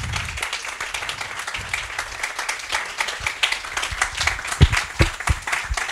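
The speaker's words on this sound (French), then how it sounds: "Je pense qu'on peut applaudir nos intervenants." Audience applause at a freelance meet-up, steady dense clapping from a room full of people for about six seconds, with a few louder individual claps standing out near the end.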